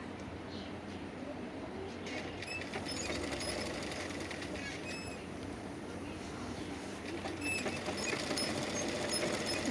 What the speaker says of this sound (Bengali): ফিতাটি সেলাই করা হয়ে গেছে।